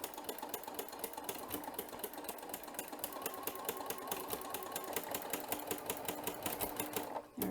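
A sewing machine with a ruffler attachment gathers fabric, taking a gather every 12 stitches, with a fast, even mechanical chatter of stitches that stays steady and close throughout and stops abruptly at the end.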